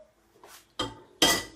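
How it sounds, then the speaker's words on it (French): A saucepan set down on a stove: a soft scrape, then two sharp, close metallic clanks in quick succession, the second loudest, with quiet in between. "Je pose la casserole au feu"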